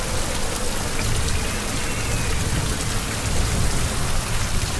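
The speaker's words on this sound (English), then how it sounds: "Look at that rain effect." Heavy rain in the sailing simulator Sailaway during a stormy race, a loud, steady hiss of downpour with a dense patter, continuous and close with no talking.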